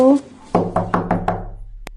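Knocking on a door at night in a village: a voice calls out briefly, then five loud, evenly spaced wooden knocks ring out close by, followed by one fainter tap after a pause.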